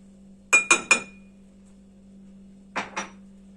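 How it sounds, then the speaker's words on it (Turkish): Chocolate cake batter being mixed in a bowl, heard as two bursts of sharp clinks from a utensil striking the bowl, three quick hits and then two more, over a low steady hum. "Karıştırıyoruz."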